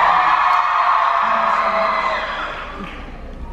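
A convention hall audience at a Q&A cheers, whoops and yells loudly and continuously, fading somewhat toward the end.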